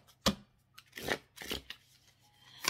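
Riffle shuffling of a deck of cards during a French tarot-style reading, several quick crisp bursts of cards fluttering close by, with short pauses between them and no talk.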